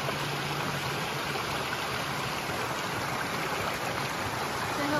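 A waterfall on the Hunt Trail, heard on a rainy day as a steady, broad rush of water, loud and close throughout, with no talk.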